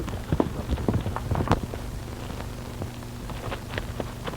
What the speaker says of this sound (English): Come on, Bud, your horse will carry double